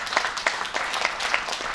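An auditorium crowd at a Korean regional broadcaster's opening ceremony claps in welcome, a steady dense patter of applause at moderate distance with no one speaking.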